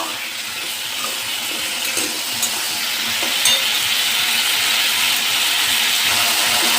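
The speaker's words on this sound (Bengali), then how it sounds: "এটা আমি এবার আস্তে আস্তে কষিয়ে নেব।" Spices for a Bengali rohu fish curry slowly sautéing in a pan, a steady soft sizzle and frying hiss holding at an even level throughout with faint scraping, no voices.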